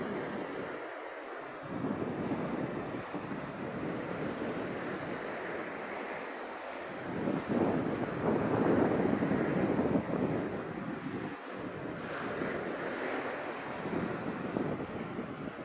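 Rough sea surf pounding a shore, a continuous roaring wash of waves with swells of louder breaking, mixed with gusty wind buffeting the microphone.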